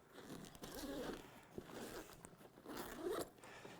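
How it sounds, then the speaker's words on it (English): The expansion zipper on a Nelson Rigg ADV dual sport motorcycle tank bag is pulled open in two quiet, scratchy runs close by, with a short pause between them. "you have this extra zipper. And I'll open this up."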